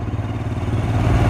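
Motorcycle engine running steadily at idle, a low, continuous rumble with slight clattering, close and fairly loud, ready for a ride to Khandi Point.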